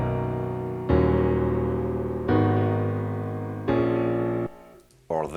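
Three sustained synthesized chords ring out in turn, each struck cleanly and decaying slightly, followed by a brief burst of a faster, brighter figure at the end.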